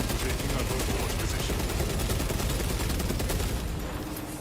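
Dense, sustained automatic gunfire from a Warhammer Space Marine video game, a loud continuous rattle of rapid shots filling the whole stretch and easing slightly at the end.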